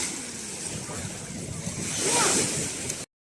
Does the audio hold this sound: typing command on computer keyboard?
no